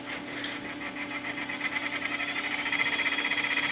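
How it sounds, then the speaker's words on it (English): An old, noisy DAT tape cassette rewinds inside a digital audio tape recorder under repair, a quiet, close, rapid mechanical whir with a fast regular ticking pulse that steadily builds. "That's a noisy cassette, not the machine."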